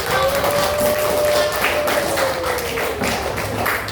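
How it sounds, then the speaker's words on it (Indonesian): Classroom applause, children clapping together in a steady patter with a voice sounding through it at times. "Oke, tepuk tangan."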